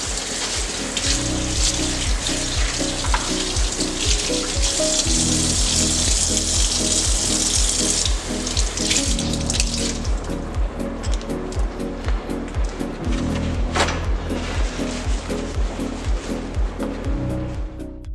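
Water sprays and splashes steadily from a tap onto a cutting board, loud and continuous, with a hiss that thins partway through.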